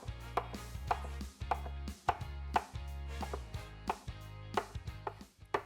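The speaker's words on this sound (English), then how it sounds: "thin strips, we want nice tiny bite-sized pieces" A knife chops ham into thin strips on a cutting board with steady, close, rhythmic chopping, one crisp knock after another, and no talk.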